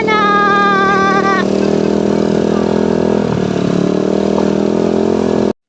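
Several motorcycles riding toward town in Mindoro, a steady mid-pitched engine drone running close and loud throughout, with a voice speaking over it and a brief whistling tone near the start.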